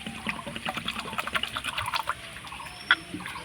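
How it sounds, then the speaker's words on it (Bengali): Flattened rice (chira) is washed with water in a bowl, with close, quiet trickling and soft splashing as the grains are stirred. "এবার জল দিয়ে ভালো করে চিড়েটাকে ধুয়ে নেব।"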